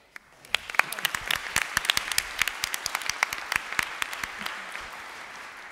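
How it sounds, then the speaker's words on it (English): A panel audience applauds at the close of a discussion on blasphemy, Islamophobia and free expression, a brief smattering of distinct claps that swells into dense, continuous clapping before fading out. "please give all of our speakers a massive round of applause"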